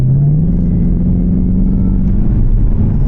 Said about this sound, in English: you're just a little blip of the throttle,